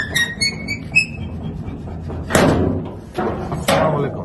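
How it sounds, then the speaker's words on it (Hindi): A farm door is pulled open in Larkana, giving a few heavy wooden thuds and scraping bangs spaced over several seconds, with faint chirps early on and some background voices. "तो अभी फहीम आ रहा है, दरवाजा खोलेगा।"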